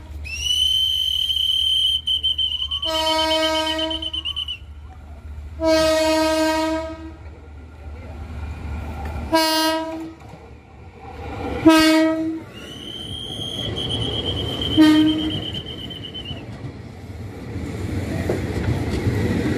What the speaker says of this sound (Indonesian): Keretanya berjalan pelan-pelan, ini buat antrian soalnya.